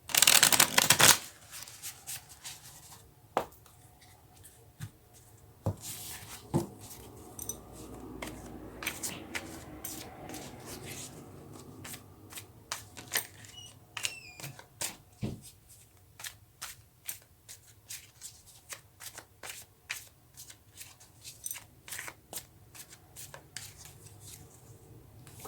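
Tarot cards shuffled by hand in a quiet room, a run of soft, rapid riffles and flicks with brief sharper snaps scattered through, close and fairly faint.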